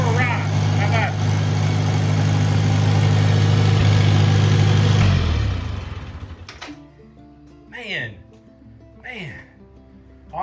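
A 1949 Farmall Cub tractor engine runs with a steady, loud chugging drone for about five seconds, then shuts off, and a person talks in the quiet that follows.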